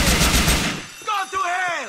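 Video game gunfire in GTA IV, a loud close burst of rapid automatic shots over roughly three quarters of a second, then tapering off into quieter scattered sounds.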